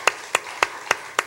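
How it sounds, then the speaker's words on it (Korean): Congregation at a Sunday worship service in a Korean church clapping in unison: five sharp, evenly spaced claps in a steady rhythm over a quiet room. "박수 세게 한번 치겠습니다"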